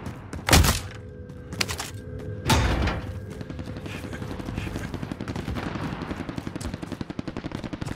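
Gunfire in the Warzone video game: two heavy, booming shots ring out near the start, followed by a long, rapid machine-gun rattle that continues to the end.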